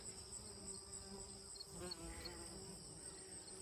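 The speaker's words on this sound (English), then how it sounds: "You can hear lots of bees in the oregano blooms." A steady hum of many bees buzzing close by in blooming oregano flowers in a garden, continuous and even throughout, with no talking.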